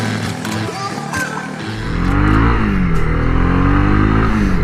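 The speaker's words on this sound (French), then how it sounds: "Ah, la sonorité du moteur est vraiment sympa en tout cas." A Honda CB300R's 286 cc single-cylinder engine idles, then is revved up hard with rising, throaty pitch sweeps, loud and close, with no talking.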